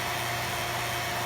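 A vacuum pump runs steadily while drawing down on boiling water, giving a continuous broadband mechanical hum with a low drone, constant in level and heard alone without talk.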